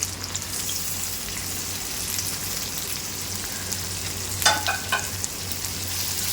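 Steady, close sizzling and crackling of okra frying in hot oil with turmeric, with a few brief clinks of a utensil against the pan midway.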